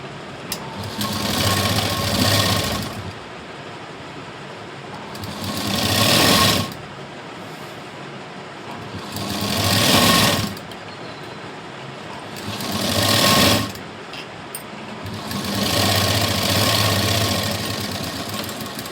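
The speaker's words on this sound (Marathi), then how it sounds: "आता इथे आपली डबल शिलाई झाली." A sewing machine double-stitches the lining of a blouse front, running in five steady bursts of mechanical whirring separated by short quiet pauses.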